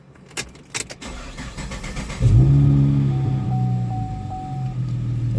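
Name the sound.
2011 Chevy Camaro engine starting up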